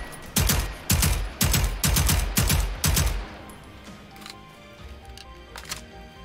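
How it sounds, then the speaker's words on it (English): Submachine gun fire in the video game Generation Zero: six loud, close, evenly spaced bursts, each a sharp crack with a low thump, followed by a quieter stretch of faint background game noise. "just to show that this submachine gun is now somewhat powerful"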